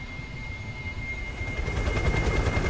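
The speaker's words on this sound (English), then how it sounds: "Liquid has a chopper ready to get him out of here" A helicopter from Metal Gear Solid 4: Guns of the Patriots thrums with a steady rotor beat and a high whine, growing louder and more chopping toward the end, with no voices.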